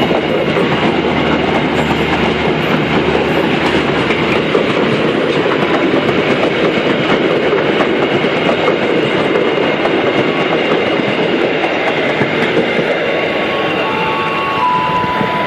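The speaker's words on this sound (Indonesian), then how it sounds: "kereta api luar kota lewat." The Jaka Tingkir intercity train rumbles past close by, steady loud rolling noise with rhythmic clatter of wheels on rails, continuous for the whole stretch.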